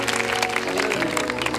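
An audience at a children's chapel service claps steadily for a brief moment, with dense, even applause over a sustained tonal background.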